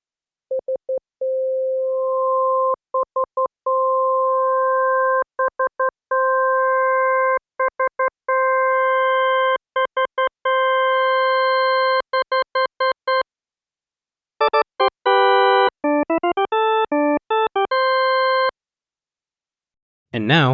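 Synthesized organ-like tone built from six additive sine waves, heard as a series of short steady beeps and held notes, with partials added one by one into a brighter chord, then choppier repeated tones, alone with no talk.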